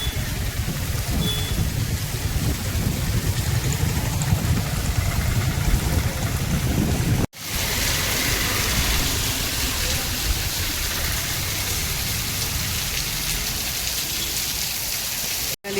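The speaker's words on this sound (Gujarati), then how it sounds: "ચાલુ થઈ ગયો છે અને વરસાદ આવી રહ્યો છે" Heavy rain pouring down on a street outside a shop, a thick unbroken roar of drops on surfaces, loud and near, cut by a brief gap midway before continuing just as steadily.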